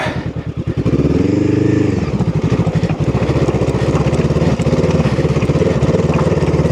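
A Honda CL500 motorcycle riding off-road, its engine loud and close, pulling steadily from low revs with a throaty, pulsing drone throughout.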